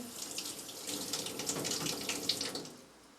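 Winemaking equipment rinsed under a running tap, water splashing steadily and fairly quietly for about three seconds before tapering off, with no voices.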